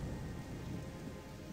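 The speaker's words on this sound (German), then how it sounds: "So, ich sehe nicht viel, weil es regnet." Steady rain falling in the video game Gothic II, a constant soft hiss of dense rainfall with a low rumbling undertone, quiet and even throughout with no speech.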